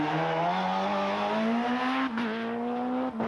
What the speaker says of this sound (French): La voici, cette Fiat Punto Super 2000, pilotée par Andrea Navarra.